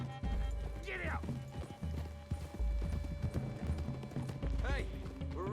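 Horse hooves clip-clop in a rhythmic trot through a forest clearing in Red Dead Redemption 2, close and steady, with a couple of short whinnies cutting in along the way.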